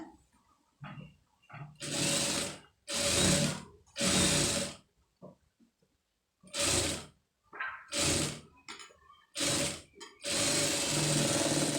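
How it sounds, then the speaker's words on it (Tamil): Sewing machine stitching a seam on an embroidered blouse, running in loud bursts of rapid whirring that start and stop repeatedly, with short quiet gaps between runs and no talk. "அதை அப்படியே வந்து திருப்பிக்கிருங்க திருப்பிட்டு இந்த கரெக்டாக அந்த ஒட்டில் ஒரு தையல் போட்டுருங்க"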